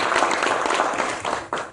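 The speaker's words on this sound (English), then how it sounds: "One more round of applause for this group." An indoor crowd at the 2013 Madison softball awards applauds four freshman softball players with a dense, sustained round of clapping that trails off at the end.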